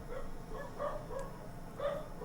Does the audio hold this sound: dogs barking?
yes